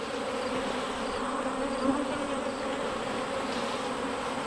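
A swarm of bees buzzes around horizontal hives, a continuous close, even droning hum with no voices.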